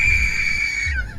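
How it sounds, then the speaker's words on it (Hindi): A single sudden, piercing scream from a horror story, held on one shrill note before dropping away, over a low rumbling background. "फिर अचानक एक भयानक दिल दहला देने वाली चीख गूंजी।"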